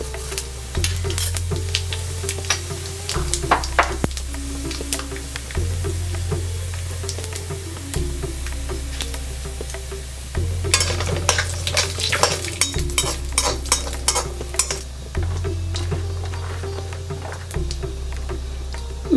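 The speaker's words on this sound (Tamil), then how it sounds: "இப்போ நான் வந்து 1 டீஸ்பூன் ஜீரகம் சேர்க்குறேன்." Cumin seeds sizzle in hot oil in a pan as they are stirred for a fried rice, a steady close crackle with repeated scraping strokes running throughout, no talking.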